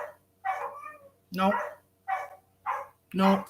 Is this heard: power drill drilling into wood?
no